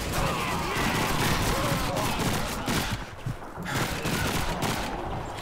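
Machine gun fire in the World War II shooter Call of Duty 2 rattles on continuously in dense rapid bursts, loud and close, with battle noise filling the background and a brief dip midway.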